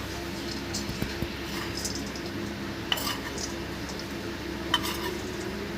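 Gram flour stirred in a kadai, with soft scraping and a few sharp metallic taps of the spoon against the pan over a faint, low background hum.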